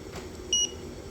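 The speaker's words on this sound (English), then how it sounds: "You hold it until the beep." A single short electronic beep from a Prostart remote start on a Hyundai Genesis, clear and fairly close, over a quiet hum.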